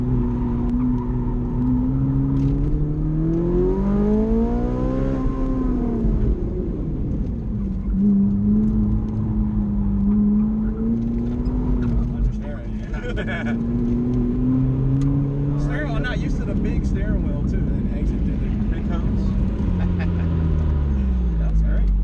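Ferrari 458 Italia engine on an autocross course, continuous loud onboard drone that swells and falls in pitch through corners and acceleration, with someone talking over it.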